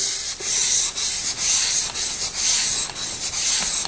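Steady rhythmic scraping of a blade stroked back and forth across a wet stone, loud and close, each pass with a brief dip, no voices.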